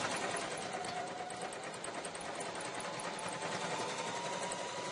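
A Janome HD5000 heavy-duty sewing machine runs continuously through eight layers of denim, a steady close mechanical whir with rapid needle ticking that holds without pause for the whole stretch.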